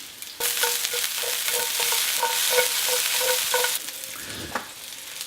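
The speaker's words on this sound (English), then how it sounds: "I'm gonna start right here with the onions. We're gonna let those saute up for a minute." Onions sauteing in a hot pan give a loud, close sizzle with rhythmic scraping and stirring clicks, the frying hiss easing off near the end.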